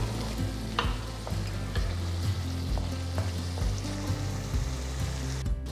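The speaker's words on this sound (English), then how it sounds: "Cook till the raw smell goes and the masala becomes nice and thick." Tomato puree masala sizzling and bubbling in a pan for a lauki kofta curry, a continuous loud close hiss with occasional stirring scrapes, no talking.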